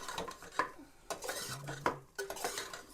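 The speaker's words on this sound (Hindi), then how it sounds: "ये सारे खड़े मसाले ऐड करने के बाद इनको भी हम फ्राई कर लेंगे मटन के साथ" A metal spoon scrapes and clinks against a pot as whole spices such as cloves, cumin, black pepper, bay leaf and cinnamon fry with mutton. The stirring comes in several soft, close knocks and scrapes with faint sizzling underneath.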